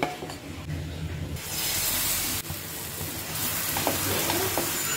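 Spinach and wheat flour dosa batter spread on a hot dosa pan, with a loud hiss and sizzle swelling up as the batter meets the surface, then a steady close sizzle with light scraping.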